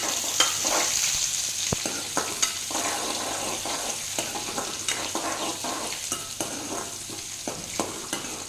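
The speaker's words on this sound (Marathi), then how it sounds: "आता यामध्ये मी कांदा घालत आहे" Chopped onion fries in hot oil with spluttering mustard seeds and cumin for a sour-sweet mango-seed amti, a steady close sizzle broken by regular scraping stirs, no voices over it.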